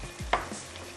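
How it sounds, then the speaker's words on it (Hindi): Chicken and mushrooms in a pan get a quick stir over a low sizzle, with a single clear scrape of a utensil and a faint knock in one brief moment. "चले जी, अच्छा सा इसको करते हैं स्टर"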